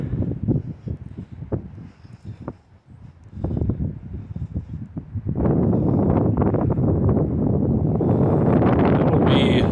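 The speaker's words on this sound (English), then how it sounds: "Again, ripping headwind." Strong headwind buffets the microphone on an open disc golf fairway, a broadband rumble that swells and stays loud through the second half, with gusty rustling earlier.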